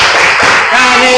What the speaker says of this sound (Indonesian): Ayo, tepuk Canisius.